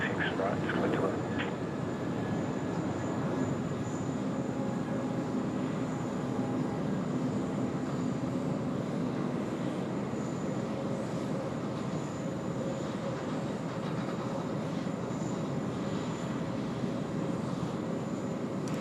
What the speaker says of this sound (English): And away she goes, the second A220 departure of the show today